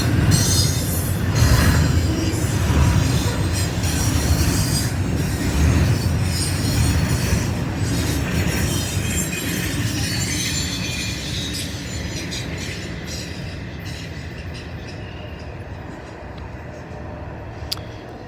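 A train rolls past up close and loud, wheels squealing and rails clattering in a dense continuous roar that slowly fades as the cars pass.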